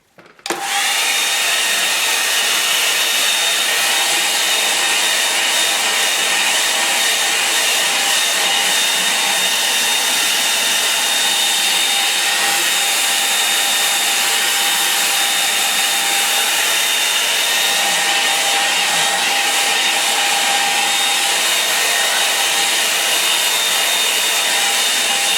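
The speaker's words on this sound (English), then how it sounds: "I'm going to dry that off again" A hair dryer dries acrylic paint on a canvas, switching on and then blowing as a steady, loud, continuous whir close by, with no talking.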